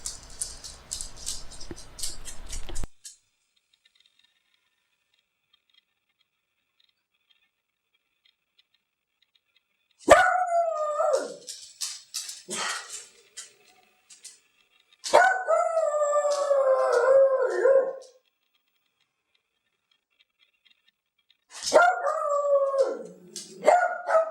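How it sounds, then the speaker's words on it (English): Dogs with separation anxiety, left alone, let out bursts of mournful howling and barking, loud and close, separated by long silent gaps. "they are barking and pacing"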